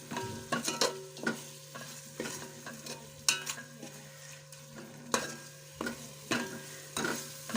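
Ginger garlic paste frying in hot oil for egg biryani, a low sizzle punctuated by repeated sharp spoon scrapes and knocks against the pan at an uneven rhythm, close up with no speech.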